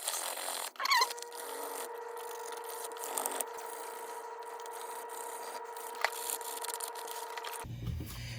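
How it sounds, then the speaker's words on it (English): Fine sandpaper rubbed by hand over the metal of a shotgun loading port makes a steady, close, continuous rasping scrape with a faint squeak near the start, then ends in a brief different noise. No one speaks. "So I got some really fine sandpaper here."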